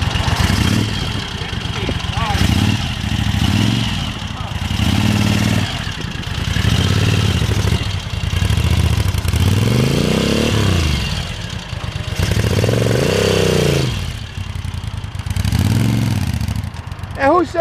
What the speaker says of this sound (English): Now there's a man's motorcycle.